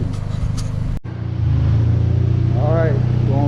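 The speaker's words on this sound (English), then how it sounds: "got my car on the dyno. About to do a couple of hits on it and see what kind of horsepower we get" A VW CC R-Line with a 2.0 TSI engine and K04 turbo revs up on a dynamometer, its engine drone rising into a loud sustained tone after a brief cut, with someone talking over the start.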